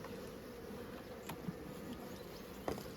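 A soft, continuous hum of honeybees at an open queenless hive, steady and low, with a couple of faint taps from handling.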